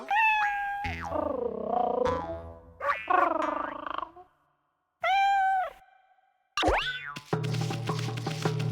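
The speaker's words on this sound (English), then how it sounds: "There's a cat on the wall." Several drawn-out meows from a cat in the video game Okami, separated by short silences, with a bouncy boing-like sound effect mixed in, no talking.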